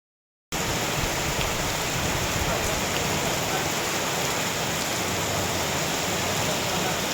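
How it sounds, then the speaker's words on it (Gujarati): Steady rain pours down in Junagadh district after a moment of silence, a dense, even hiss of drops hitting surfaces that continues unbroken throughout. "કેશોદ રોડ સહિતના વિસ્તારમાં વરસાદ"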